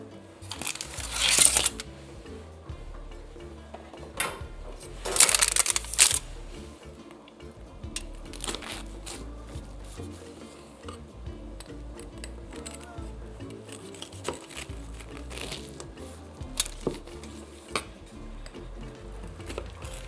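A knife cuts through very gooey, fudgy homemade brownies made with Dr Pepper, giving a few short, crisp scraping strokes close up. The strokes come in separate bursts between quieter handling sounds, with no talking.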